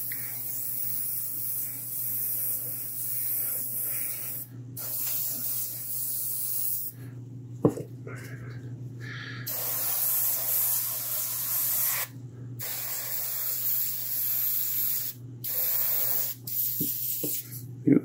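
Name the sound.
airbrush spraying Mr. Color lacquer paint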